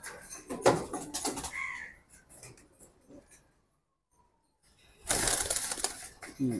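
A pair of Military breed pigeons flutter restlessly in a cage, the female especially agitated. Sudden bursts of wing-flapping and scuffling come at the start and again near the end, with quieter rustling and faint voices between.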